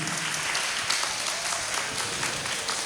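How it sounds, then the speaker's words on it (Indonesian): A room full of students at a school awareness session applauds together, a thick, even wash of many clapping hands that holds steady throughout without a break. "Tepuk tangan dulu buat kita semua."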